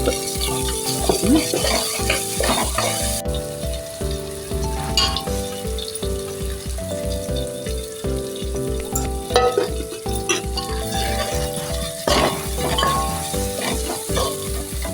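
Green chili frying in a pan for North Karnataka-style kattu saaru: a continuous close crackling sizzle, broken by clinks and scrapes of stirring, with no talk.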